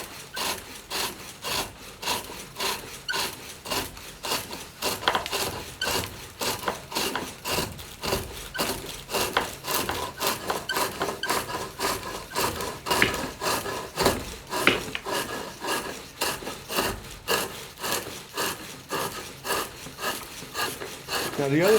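Poplar wood turned on a foot-powered pole lathe gives a steady back-and-forth rasping scrape as the tool cuts, repeating in even pulses for the whole stretch, close and continuous, with a voice talking under the work.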